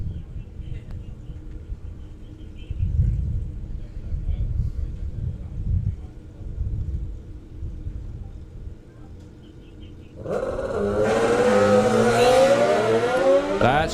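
Low engine rumble from the drag strip that swells into a loud, rising high-pitched roar as a drag racing motorcycle launches. The rumble comes in waves, and a commentator talks over the early part.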